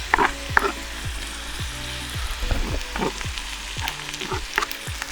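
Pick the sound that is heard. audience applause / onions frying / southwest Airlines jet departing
onions frying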